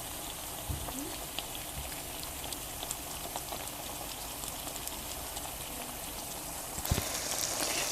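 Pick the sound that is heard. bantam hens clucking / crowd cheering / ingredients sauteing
ingredients sauteing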